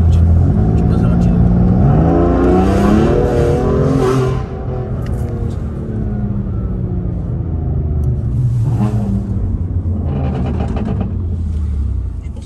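A Maserati sports car revs loudly nearby, its engine note swooping up and down in repeated surges with deep rumbling throughout, while people talk over it.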